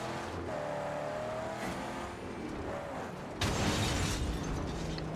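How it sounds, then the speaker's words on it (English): Car engines droning and revving in the post-apocalyptic driving game Mad Max, a steady loud roar with a sudden louder burst of noise near the end, like a crash or boost. "Hope you guys like car sounds."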